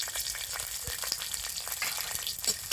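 Mustard seeds, curry leaves and chilies frying in oil, a steady crackling sizzle with scattered small pops, close and moderately loud, no voices.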